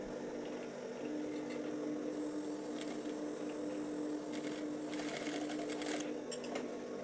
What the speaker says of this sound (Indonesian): Bagian sudut segitiganya kita jahit.